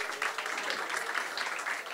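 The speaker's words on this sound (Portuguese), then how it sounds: "Uma salva de palmas para a Thaís, pessoal." An audience at a Rio de Janeiro energy and sustainability startup event applauds as a guest is welcomed, a dense, steady wash of clapping, fairly faint and distant.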